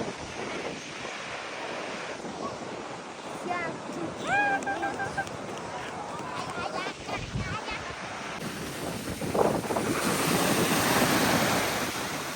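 Steady rushing surf of waves on a Baltic Sea beach at Rowy, Poland, with wind noise on the microphone and some voices talking over it; the wash swells louder near the end.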